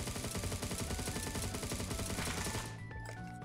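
An S-CAR rifle in the mobile shooter Knives Out fires a fast, evenly spaced stream of loud shots that stops abruptly near the end, leaving a brief fading tail.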